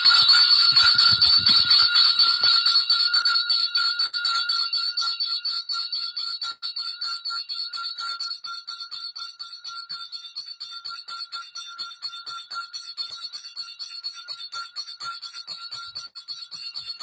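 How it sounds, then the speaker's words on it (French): A ceremonial bell rings steadily at the entrance of a Constitutional Court session, a loud, continuous bright clanging that slowly fades but keeps ringing with no voices heard. "c'est la cloche qui sonne."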